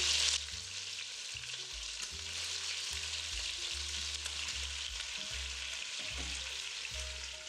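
Pork ribs and sausage fry in a pan with a steady, loud, close sizzle that runs throughout, under a low hum and no talking.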